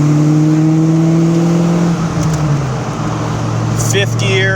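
A 1988 Ford Mustang GT's engine drones loud and steady, its pitch sliding down around a gear change before settling into a lower cruise, with road and wind noise underneath and someone talking over it.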